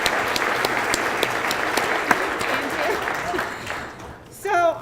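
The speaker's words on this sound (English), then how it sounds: "please stand so we can give you a round of applause" A conference audience in El Paso County, Colorado claps in a sustained round of applause, and a voice speaks over the fading clapping at the end.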